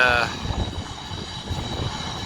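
A DC-10 water bomber's engines roar at the Pocatello Air Tanker Base in Idaho, a steady broadband rumble that starts loud and then holds at a sustained, slightly fluctuating level, with faint speech mixed in.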